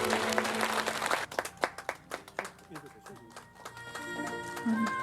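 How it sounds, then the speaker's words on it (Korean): An audience at a Korean literary award ceremony, the Honbul Literature Prize, claps as the winning author comes on stage. A burst of applause fades into scattered individual claps, then music rises. "무대로 올라오는 서철원 작가에게 뜨거운 박수 부탁드리도록 하겠습니다"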